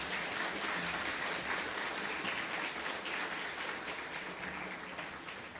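An auditorium crowd at an engineers' conclave inaugural function applauds its dignitaries, a thick sustained clatter of many hands that stays full throughout, fading slightly toward the close.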